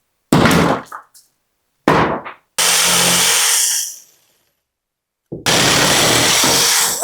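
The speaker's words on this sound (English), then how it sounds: "finish cutting these pieces of lath that I could not get last week" Power saw cutting short pieces of wooden lath in an old general store, in several loud bursts of whining, rasping cut with brief pauses and a thunk between, the longest cut about two seconds.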